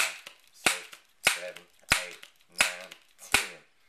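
A Crosman 1377c pellet air pistol is pumped, giving about five sharp, evenly spaced clacks roughly every 0.65 seconds, each followed by a brief airy rasp, close and distinct.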